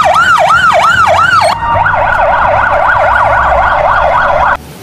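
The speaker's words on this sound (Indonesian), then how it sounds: "Ternyata ini mobil ambulan" A loud electronic siren from a toy ambulance wails close by, switching partway through from a slow rising-falling tone to a faster warble, then cutting off abruptly.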